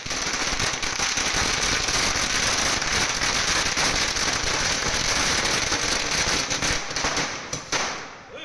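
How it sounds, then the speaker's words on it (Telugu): Firecrackers burst in celebration outside a house, a dense, loud, continuous crackling barrage that thins out slightly near the end. "గిట్ల మాజీ ఎమ్మెల్యే పైలట్ రోహిత్ రెడ్డి ఇంటి ముంగట బాంబులు కాల్చి స్వీట్లు పంచుకొని సంబరాలు చేసుకున్నారు."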